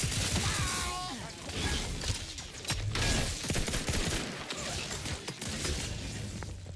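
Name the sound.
gunfire in Outer Worlds 2 video game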